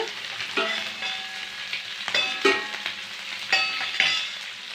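Fish pieces fry in oil, village style, over a low flame, a close bubbling sizzle with several clinks and scrapes of a utensil turning them, no talking.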